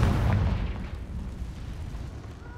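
Confringo spell blast in the Hogwarts Legacy video game, a loud, close explosive boom that decays into a rumbling tail over a couple of seconds; no talking.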